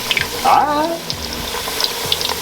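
Chicken pieces for sandwiches frying in a pan, a steady sizzle with watery crackle and a brief louder burst as the pieces go in, with a faint voice briefly underneath.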